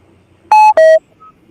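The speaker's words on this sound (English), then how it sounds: "Is that what that beep was? Your earbuds are dying?" Dying earbuds give a low-battery alert: two short, loud electronic tones in quick succession, the second slightly lower, followed by a faint brief blip, in an otherwise quiet room.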